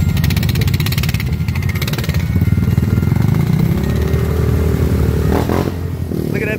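ATV engine running steadily while being ridden in Horn Lake, Mississippi, a loud, close, continuous mid-pitched drone with brief revving swells near the end.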